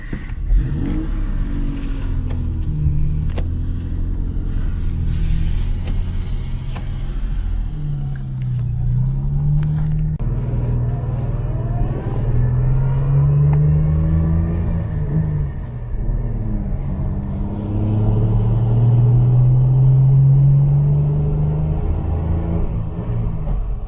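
A 1961 Jaguar MK II with its 3.4 engine runs steadily nearby, its low rumble rising and falling through several revving swells, with no voices over it.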